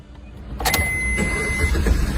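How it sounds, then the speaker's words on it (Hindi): A car that is not E20-compliant, left standing for two or three days, turns over on ethanol-blended fuel and catches into a rough, steady idle, loud and close. "जब आप गाड़ी 2 दिन बाद स्टार्ट करते हो या 3 दिन बाद स्टार्ट करते हो तो इसे स्टार्ट कैसे होती है अब सुनना"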